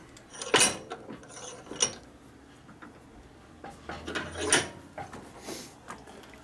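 Tightening a part on a 1965 Harley Panhead 74ci FLH during a carburetor repair: a few close, faint metallic ratcheting clicks and scrapes in short bursts, separated by quiet gaps.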